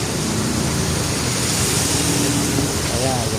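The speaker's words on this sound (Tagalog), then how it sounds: "lumakas na naman ang ulan" Heavy rain from Typhoon Enteng pours down in a steady, dense wash that stays loud and constant throughout, with faint low rumbling underneath.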